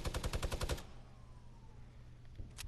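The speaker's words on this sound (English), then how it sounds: "I'm gonna start shooting down trees." Rapid automatic gunfire in a video game, a loud burst of closely spaced shots lasting under a second, then fading into quiet game ambience with a faint later blip.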